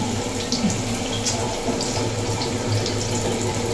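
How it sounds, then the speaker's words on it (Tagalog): Water poured into a cooking pan while making pancit habhab, a steady running, splashing rush at an even moderate level with no speech over it. "nilagyan din po natin ng tubig"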